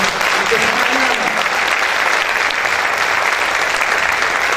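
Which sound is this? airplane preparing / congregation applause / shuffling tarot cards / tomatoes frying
congregation applause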